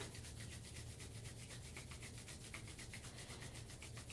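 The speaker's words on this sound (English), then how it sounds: "we're going to rub our hands together." Palms rubbing together during a qigong warm-up, a steady, soft brushing swish with a quick back-and-forth rhythm, close and quiet, with no talk.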